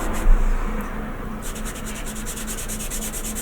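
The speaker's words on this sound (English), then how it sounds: "I'm using a sponge sander here because I don't want anything too harsh or abrasive" A sponge sander rubs back and forth over wood filler on a wooden Tardis model, giving a steady, close scratchy swishing with a regular stroke rhythm.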